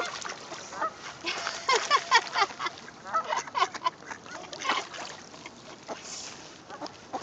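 Ducks quack repeatedly at close range while being fed by the water, with clustered, overlapping calls that come in uneven bursts.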